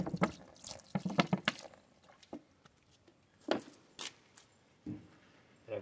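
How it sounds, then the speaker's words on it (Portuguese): Paint stirred with a little water for painting a house front gives irregular soft wet slaps and drips, short clustered bursts separated by quiet gaps, close by with no talk. "Vou misturar com um pouquinho de água"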